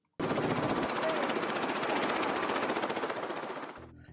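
A helicopter lifts off in Fiordland, its rotor thudding in fast, rapid chops that start abruptly, hold steady and loud, then fade slightly as it climbs away.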